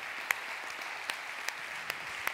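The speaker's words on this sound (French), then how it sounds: "Acclame bien s'il te plaît." A church congregation keeps up continuous applause for Jesus, a dense even patter of many hands with occasional louder single claps popping out near the front.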